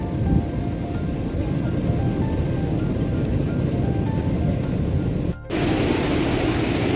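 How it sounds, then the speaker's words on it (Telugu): Water from a hidden freshwater lake at Arambol, Goa, pours into the sea, giving a steady, dense rushing roar close by that continues without a break apart from one very short dip near the end. "వాటర్ ఫ్లో చూడండి."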